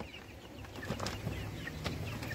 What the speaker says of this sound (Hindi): चले मैं आपको सारी मुर्गियों से मिलवाती हूँ।